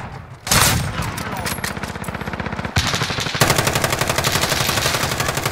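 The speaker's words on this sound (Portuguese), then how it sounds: "os gajos ainda nem apareceram, já estão a mandar tiros" Loud, continuous rapid-fire automatic gunfire in Call of Duty: Modern Warfare (2019) Hardpoint, bursts running into one another with barely a pause, close and dense throughout.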